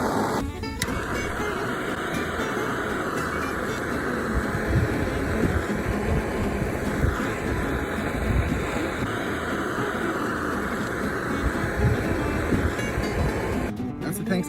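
A blowtorch sears turkey and stuffing outdoors, a steady, loud, close roaring rush of flame that holds evenly from start to finish.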